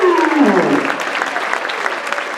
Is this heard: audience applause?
yes